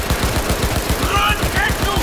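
Rapid bursts of gunfire in Cyberpunk 2077, a fast repeating rattle of shots over a couple of seconds, loud and close.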